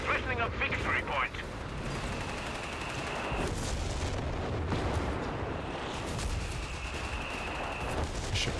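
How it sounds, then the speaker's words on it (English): Nebelwerfer rocket artillery firing in Company of Heroes 3, a roaring salvo of launches and distant explosive impacts rumbling on for several seconds, with someone talking over the battle. "here comes the Nebelwerfers actually. Both of them firing"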